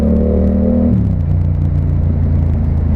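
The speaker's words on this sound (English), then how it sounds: "If you got a loud exhaust like I do, you know, it kind of brings out the beastly sound that I hear" Yamaha MT-07 motorcycle fitted with a loud SC Project exhaust, a deep steady engine rumble that drops from a higher rev to a lower idle-like drone, close and loud throughout.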